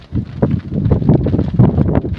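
Wind buffets the microphone in a steady low rumble, gusting without pause from start to finish.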